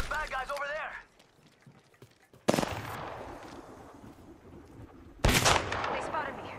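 Bursts of weapon fire in the battle royale game Apex Legends, two heavy sharp volleys with a rumbling tail between them, mixed with in-game voice lines and background combat noise.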